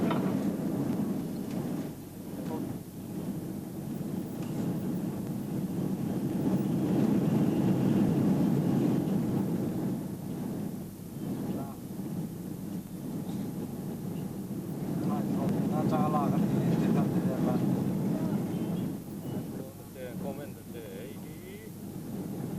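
Steady cabin roar inside a Thai Airways Airbus in flight, a broad, continuous hum that swells and eases slightly, with faint voices murmuring beneath it.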